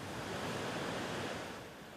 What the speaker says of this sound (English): the job now is to stop this water flowing further down the track